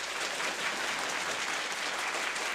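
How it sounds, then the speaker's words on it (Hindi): Audience clapping at a Hindi stand-up comedy show, a dense, steady wash of many hands that holds evenly throughout without any talk. "आप तालियां बजा सकते हैं"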